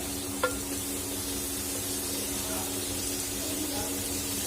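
Bombil fish sautés in masala in a pan with a steady, faint hissing sizzle. A single light clink of a utensil comes near the start.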